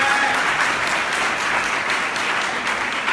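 Congregation at a French-language church service applauding steadily for several seconds, a dense, even wash of clapping with some crowd noise mixed in, loud and sustained without pause.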